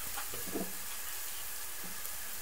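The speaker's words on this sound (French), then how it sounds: "Puis je dépose une tranche de fromage et je laisse cuire" A burger patty with a slice of cheese on top sizzles and fries in a pan, a continuous close hiss with a few small pops and crackles, no voices.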